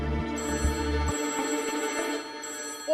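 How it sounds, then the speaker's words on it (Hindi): An old telephone ringing indoors, a bright electronic trill repeating in short bursts at moderate volume, with faint clinks and household noise beneath and no talking. "ओ भाई, इस समय फोन कहाँ से आ गया?"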